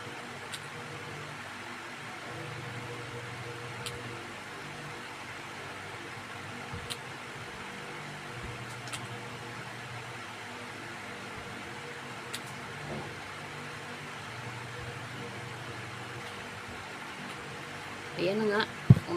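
A borrowed car's engine hums steadily from inside the cabin as it drives along, a low, even drone with faint rattles, while people talk quietly over it.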